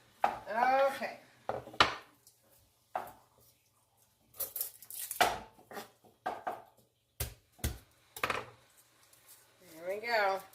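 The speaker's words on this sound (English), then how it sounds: "There we go. We're chopping it." Garlic being chopped with a knife on a board while cooking a cheesy green bean skillet, sharp clustered knocks coming in short bursts between stretches of conversational talk.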